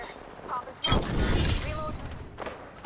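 Gunfire erupts in an Apex Legends match, a loud burst of shots near the one-second mark followed by a sustained rattle of firing and impacts for about a second, with fainter shots later; no speech over it.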